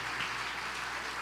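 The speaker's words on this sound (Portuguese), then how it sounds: "Pode aplaudir esse irmão tão precioso" Church congregation applauding a visiting brother, a faint, even patter of clapping from many hands heard at a distance for a brief moment.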